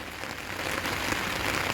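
Light rain patters steadily onto a temple pond and its surroundings, a dense soft hiss of drops close by with no voices.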